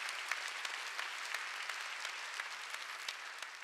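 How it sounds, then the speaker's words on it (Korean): Congregation clapping during a Wednesday church service, a steady dense wash of applause from many hands filling the room with no talk over it. "박수 치려면 치고 말하자"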